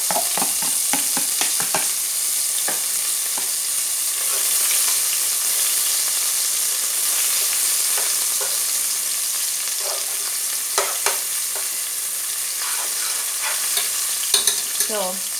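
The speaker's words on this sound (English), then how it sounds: "So this is sauteed for a little while" Ginger sautéing in hot oil for Jamaican sweet and sour chicken, a steady loud sizzle with scattered clicks and stirring scrapes throughout, no talking.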